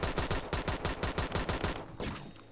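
Rapid pistol fire in the Roblox shooter Phantom Forces, about a dozen evenly spaced synthetic shots in a quick, steady rhythm. The burst ends abruptly and leaves a short tail of ringing.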